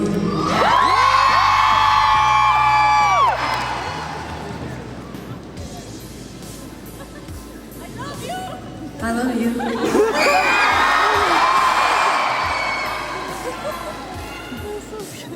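A big concert crowd at The Locket Tour screams and cheers loudly, bursting up at the start, easing off, then surging again near the end, with a voice talking over the noise.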